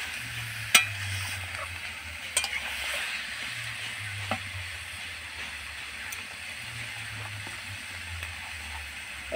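Meat being stirred in a pan as it releases water, seasoned with salt and turmeric, sizzling steadily with a few sharp scrapes and clinks of the spoon; low hum in the background, no talking.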